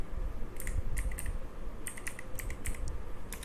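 Keys on a computer keyboard are tapped in short clustered bursts at close range as a command is typed at a prompt. A faint steady background hum sits underneath.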